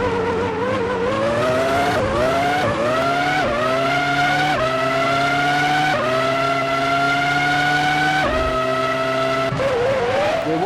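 Formula One cars racing in the 2003 Formula One video game at the Austrian Grand Prix, with loud, continuous high-revving engine whine that rises and drops through repeated gear shifts as cars run close together.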